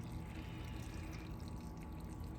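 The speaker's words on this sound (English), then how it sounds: "you just go ahead and pour your hot water," Hot boiled water pours into an instant Vietnamese pho cup as a faint, steady trickle and splash, close by and quiet, with no talking.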